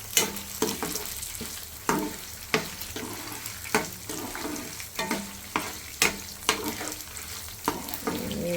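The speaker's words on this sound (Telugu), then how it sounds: "శనగపప్పు కందిపప్పు వేసాను, మినపప్పు వేసాను, ధనియాలు వేసాను, రెడ్ మిర్చి, వెల్లుల్లి, జీలకర్ర అన్నీ నూనెలో వేయించుకోవాలండి" Lentils, coriander seeds, red chillies, garlic and cumin fry in hot oil in a pan, a steady close sizzle broken by regular scraping stirs of a spoon roughly every half second.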